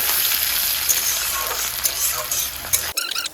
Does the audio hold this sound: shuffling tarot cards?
no